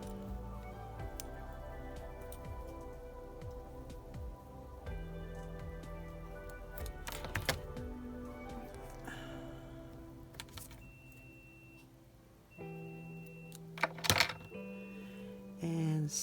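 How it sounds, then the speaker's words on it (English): A leaf piece is cut free from a Fonds of Autumn split texture die cut, with small close ticks, snips and paper rustles scattered over a steady background hum, a few sharper clicks standing out. "I'm just going to cut that leaf off."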